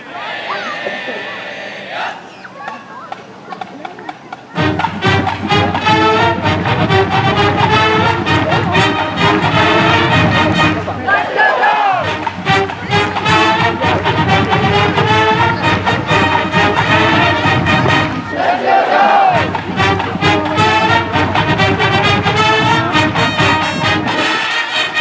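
Grove City, Ohio high school marching band playing the cheer "Let's Go Dogs" at a football game, loud brass and drums continuous after a quieter start, with crowd noise around it.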